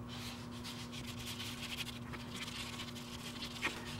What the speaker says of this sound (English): I'm actually going to go back to 220 and wet sand at 220.